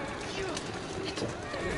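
Horse whinny and clip-clop hooves from Assassin's Creed Syndicate, a video game, sounding dense and continuous over steady game ambience for under two seconds, with talk mixed in.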